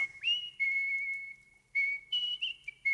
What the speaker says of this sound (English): He sat in his palace and whistled his ruby whistle.